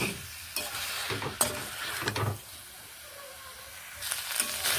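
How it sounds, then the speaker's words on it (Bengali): Potato, drumstick and fish curry being stir-fried and stirred in a pan, with loud scraping strokes of a spatula over a continuous sizzle, close by and without talk. "ভালোভাবে এইভাবে মিশিয়ে নেড়ে নিচ্ছি। খুব ভালোভাবে আরও 2 মিনিট এইভাবে কষিয়ে নেব।"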